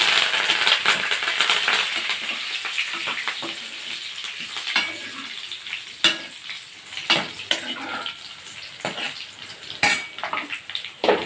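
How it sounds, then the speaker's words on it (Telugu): Curry leaves tossed into hot oil already tempering with dried red chilies and browned garlic, giving a dense, crackling sizzle with spitting bursts and scattered metal clinks of a pan and spoon, no talking. "ఇప్పుడు నేను ఇందులో కరివేపాకు వేస్తున్నాను"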